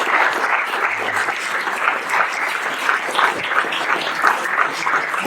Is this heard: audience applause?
yes